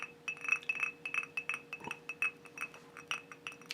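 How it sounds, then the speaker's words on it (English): Finger stirring a glass of Knob Creek Barrel Strength Rye bourbon, giving a quick run of light glassy clinks and taps at close range, steady through the moment with a constant hum beneath. "I got to do the finger stir"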